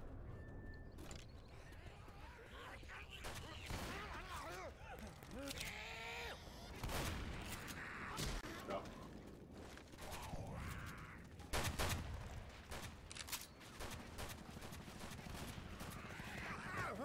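Shotgun fire in Left 4 Dead 2, repeated sharp blasts scattered through a chaotic stretch of in-game combat, mixed with other gunfire, clanking effects and frequent player chatter.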